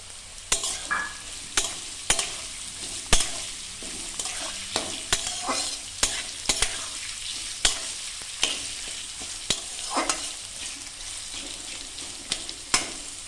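Chopped yardlong beans and carrots stir-fried in a pan for poha, a steady sizzle broken by regular sharp scrapes and clacks of the spatula roughly every second, close and fairly loud with no talking.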